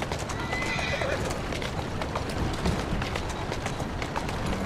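A horse in the Assassin's Creed Syndicate video game gallops with steady clip-clop hoofbeats and lets out a whinny, loud and close, under a busy game soundscape.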